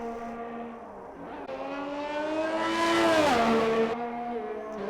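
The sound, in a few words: race car engine in sim racing game, Jeddah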